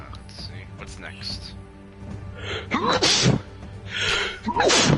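A single sneeze bursts out over the sounds of a Monster Hunter World game, with someone talking briefly before it.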